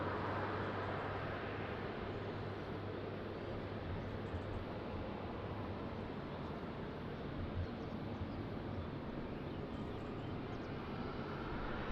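Aircraft taking off at Lisbon Airport in rain and wind, a steady broadband engine roar holding loud and constant throughout with no talk.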